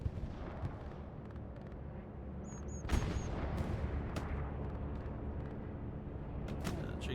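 An anti-tank gun fires during a large World War II battle at El Alamein in a video game, one sharp distant boom over a steady rumble of far-off fighting, with scattered smaller reports and no voices.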